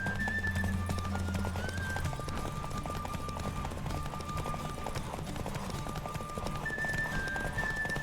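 Hooves pound in a steady gallop during a horse race in The Witcher 3, a continuous rhythmic clatter under low game music and a faint tonal hum.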